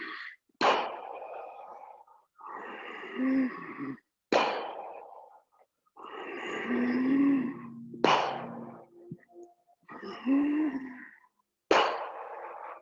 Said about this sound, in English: Circular breathing.